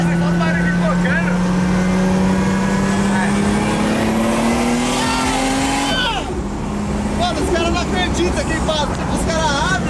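A Nissan 350Z revs hard while drifting, its engine note climbing steadily for several seconds before dropping off, with tire and exhaust noise and people talking over it.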